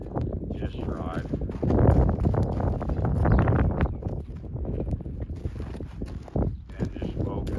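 Hooves of a ridden horse walk slowly and smoothly, a soft, steady clip-clop under wind noise on the microphone, with a voice talking over it.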